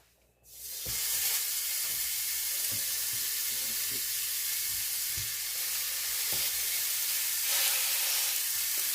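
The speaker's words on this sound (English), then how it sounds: "we are ready to fry up these burgers. I'm using the George Foreman" Bacon cheeseburger patties sizzle and hiss steadily on a George Foreman grill, a close continuous fry with small pops and scrapes throughout, no talking.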